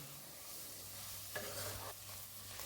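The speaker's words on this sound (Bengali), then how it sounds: "বাড়িয়ে দিয়ে এটাকে মিনিট 2 একটু ময়দাটাকে ভেজে নেব।" Flour frying in butter in a pan for mushroom soup, a soft steady sizzle with a low hum beneath and a couple of brief scraping stirs partway through.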